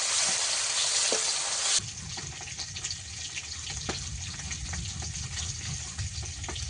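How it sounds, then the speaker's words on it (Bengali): Fish fries in hot oil with a loud bright sizzle that drops abruptly to a steadier, softer crackling hiss, with occasional clinks and no voices. "মাছগুলো একটু ভেজে নেব এই তিনটে মাছ বাকি ছিল এই তিনটাকেও ভেজে নেব"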